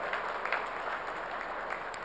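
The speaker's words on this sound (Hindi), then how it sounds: "इसलिए एक बार सेना के लिए भी जोरदार तालियां बजाकर स्वागत करें।" A crowd at the Mayor's Mega Job Fair 2025 in Indore claps loudly for the army, a dense, steady wash of applause filling the whole stretch without a pause.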